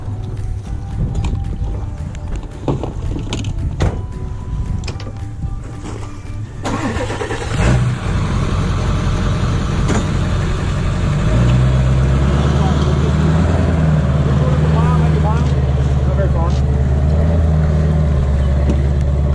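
A large outboard motor on a boat starts partway through and runs as a loud, steady low drone that grows heavier and fuller toward the end, with faint background noise beneath it.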